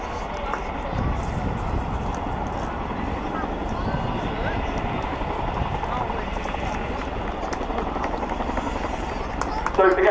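Chinook helicopter backing away at RIAT Fairford air show, a steady loud rotor roar with a constant thumping wash and crowd murmur, holding level throughout.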